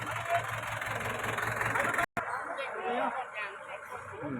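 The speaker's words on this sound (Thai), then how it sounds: "เบิ้งรถ" A ten-wheeler truck engine revving at a busy rubber cup-lump buying yard, a steady, noisy close rumble with a brief dropout midway, while someone talks throughout.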